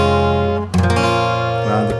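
Acoustic guitar strumming a chord progression a semitone above standard, two ringing chords played in quick succession, close and alone.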